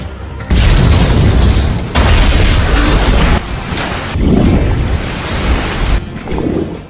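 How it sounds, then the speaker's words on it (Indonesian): Loud, deep bomb explosions boom with a rumbling roar and rushing water near boats, in several abrupt surges that cut in and out over a few seconds. "jatuh ke air bersamaan dengan ledakan bom itu"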